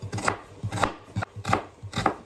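Knife chopping onion on a board in a steady rhythm, about five firm strikes with short pauses, close up and alone.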